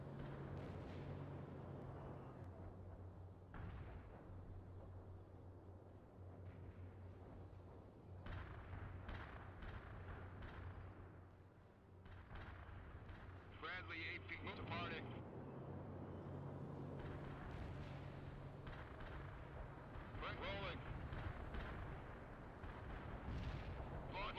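Artillery fire in the real-time strategy game World in Conflict, with repeated low booms and rumbling blasts under steady game noise and voice radio chatter across the whole stretch.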